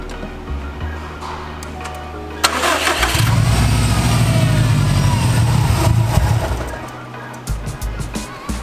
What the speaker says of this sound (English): when you start the car, it should die shortly